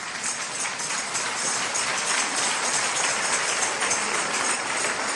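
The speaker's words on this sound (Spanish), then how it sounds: "Démosle otro fuerte aplauso al Señor" Congregation applauding during a church service, steady dense clapping throughout, evenly sustained and fairly loud with no pauses.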